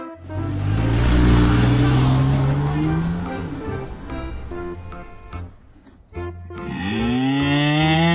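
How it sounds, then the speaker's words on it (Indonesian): A loud, drawn-out cow moo with a falling pitch, then a brief pause and a second rising moo close by. "Dairy cow."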